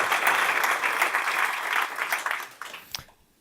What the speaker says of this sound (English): A big round of applause for MJ here.